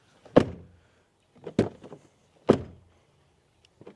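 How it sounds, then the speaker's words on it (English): Three solid thunks of a 2024 Mercedes V-Class V300d van's front door closing, each a heavy close-by slam with a short rattle after, spaced about a second apart in an otherwise quiet space. "here for the front door closing sound"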